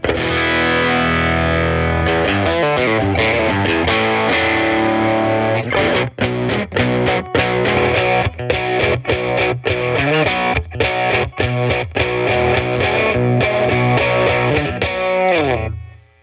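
Electric guitar played through a Universal Audio Woodrow tweed amp simulation into a Boss Katana, with heavily driven sustained chords giving way to choppy, rhythmic palm-muted strums, loud and continuous with no talk.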